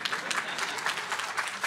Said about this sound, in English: we need to have a round of applause here as well